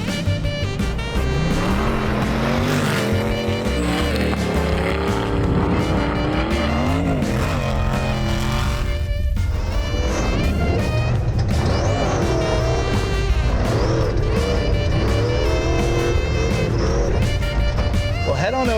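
A race vehicle called Megalodon tearing around in Kodiak, Alaska, its engine rising and falling loudly while tires squeal, continuous and close for the whole stretch.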